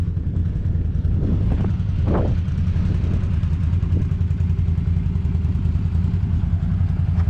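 Quad bike engines pulling a bogged ute and trailer free, a steady loud mid-pitched engine drone with a brief revving surge, continuous and near.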